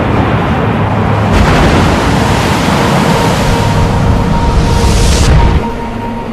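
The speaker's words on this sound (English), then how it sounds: "Super Typhoon Chanchu battered China with powerful waves and winds." Super Typhoon Chanchu lashing the Chinese coast near the Donghai Bridge, with heavy surf and wind roaring as a loud, steady broadband wash that swells midway and eases slightly near the end, with no voices.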